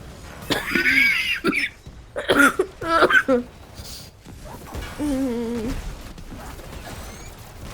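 A person coughs several times in harsh, rough bursts, followed by a strained, wheezy groan.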